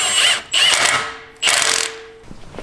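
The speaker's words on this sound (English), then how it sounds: "Using a 22 millimeter socket now, we're going to go ahead and cinch these" A socket ratchet with a 22 mm socket tightens steering bolts on a Jeep JL Wrangler, giving three bursts of rapid metallic clicking close up with short pauses between them, alone and without talk.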